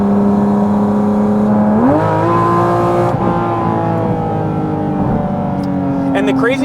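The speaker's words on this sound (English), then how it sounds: "It doesn't obstruct that incredible intake resonance in the cabin at all." Intake resonance of a Porsche Cayman GT4 RS heard from inside the cabin: a loud, buzzing engine drone that climbs in pitch as the revs rise, then holds high and strong around 4,000 rpm.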